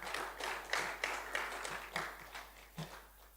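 Faint, scattered applause from the audience at an inaugural public lecture, with irregular claps rising and falling over a few seconds in a hall, with no talk over it.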